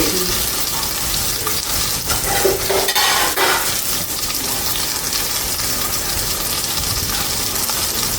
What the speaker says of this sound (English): Now it's sizzling real well. That's got a good sizzle to it.